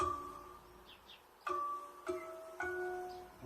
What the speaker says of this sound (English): with the harmonic, it raises up the string the next register or octave